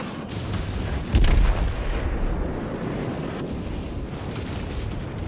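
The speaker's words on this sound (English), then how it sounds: "Both of our secondary batteries are going off each other" Yamato battleship secondary batteries fire in World of Warships, a continuous rumbling barrage of booming shots with one heavier blast near the start, under windy noise.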